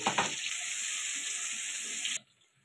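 Potatoes frying in a pan with salt and turmeric, for a Bengali bhangor fish curry with cauliflower, give a loud, steady sizzle that runs unbroken for about two seconds, then cuts off abruptly to near quiet.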